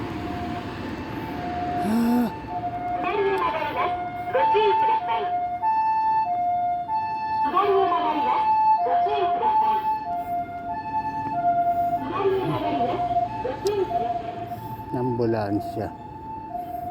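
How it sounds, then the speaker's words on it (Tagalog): An ambulance siren wails through a city street in Chiba, Japan, its repeating two-tone pattern loud and steady as it passes, while people talk intermittently over it. "Ambulansya."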